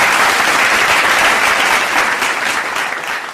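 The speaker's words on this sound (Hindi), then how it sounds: "एक बार जरा जोरदार तालियां" A crowd at an outdoor Lok Sabha election carnival event in Shimla gives loud, dense applause for a song, continuous and close, easing slightly near the end.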